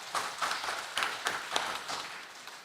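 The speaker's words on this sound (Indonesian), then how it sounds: "Tepuk tangan yang meriah untuk ya." Applause rings out across a regional government plenary session hall, a steady burst of many hands clapping at moderate distance, with no voices on top.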